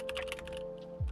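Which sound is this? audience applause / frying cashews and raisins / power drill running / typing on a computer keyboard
typing on a computer keyboard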